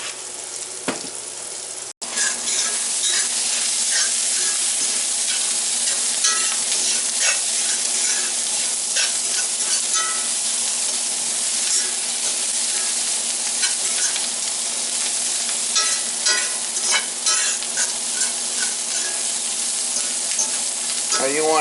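Onions sizzle and fry steadily in a hot pan, a loud, dense crackle that runs without a break after a brief pause at the start.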